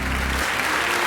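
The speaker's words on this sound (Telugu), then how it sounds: "చప్పట్లు కొట్టండి మనోడికి." A circus audience at the Rambo Circus breaks into steady, dense applause that fills the space, with a low hum underneath at the very start before the clapping carries on alone.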